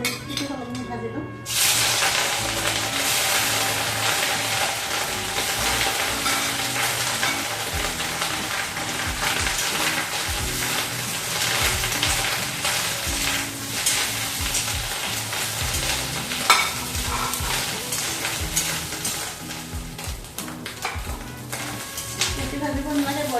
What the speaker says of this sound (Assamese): ভাজি ল'ম